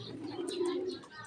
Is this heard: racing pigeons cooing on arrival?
yes